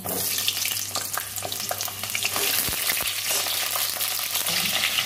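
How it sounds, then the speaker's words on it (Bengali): Whole slit pointed gourds (potol) frying in hot oil in a pan, a loud, dense, steady sizzle with occasional stirring clatter, heard up close. "পটলগুলো আমি ভেজে নেব।"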